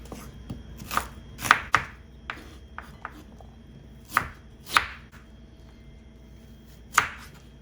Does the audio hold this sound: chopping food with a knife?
yes